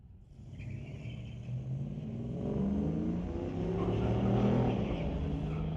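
Two drag racers, a Zapstrap Racing Chevy pickup and a Peden Industries Chevy Tahoe, launch off the line together at a bracket drag race. Their engines roar and climb steadily in pitch, loud and sustained, with no talk.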